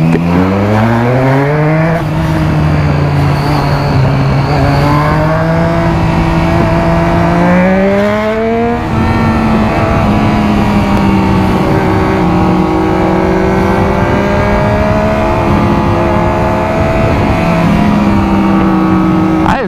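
A Kawasaki Z750 and a Honda Hornet roar through loud exhausts, the pitch climbing and falling as the engines rev hard through repeated pulls. The sound is close, aggressive and continuous for about twenty seconds.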